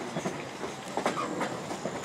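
A train clatters along the rails past Amish farmland with rhythmic clickety-clack beats, moderately distant and steady, with no voices.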